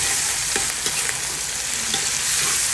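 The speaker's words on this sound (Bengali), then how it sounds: "এক চামচের মতো আদা রসুন পেস্ট দিয়ে দেবো আর এই যে ভালো করে ভাজতে হবে আদা রসুনটা" Ginger garlic paste frying with onion for khichuri, a loud steady crackling sizzle of hot oil close by, with a few soft spoon scrapes from stirring and no one speaking.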